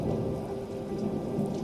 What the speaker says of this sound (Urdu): گرج، بارش،